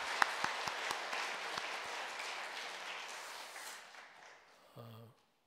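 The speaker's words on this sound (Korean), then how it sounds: "박수하겠습니다. 다시 한번." A church congregation applauding after a choir's hymn, dense clapping that starts loud and gradually thins and fades out, ending in a brief low hum.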